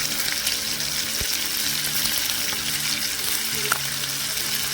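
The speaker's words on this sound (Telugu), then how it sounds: "బాగా ఫ్రై అయిన తర్వాతనే మనం మిగతా ఇంగ్రీడియంట్స్ అన్నీ కూడా యాడ్ చేస్తాం" Chicken pieces fry with turmeric in a pan, a loud, dense, continuous sizzle up close with a faint low hum beneath and an occasional sharp tap.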